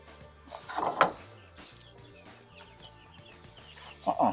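Chickens cluck and squawk nearby in a few short bursts, with a louder outburst near the start and another near the end, over quiet farmyard background.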